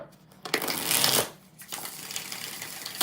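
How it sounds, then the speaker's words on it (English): A deck of tarot or reading cards is shuffled close by, two quick riffling bursts separated by a short pause, followed by softer handling rustles. "One more shuffle."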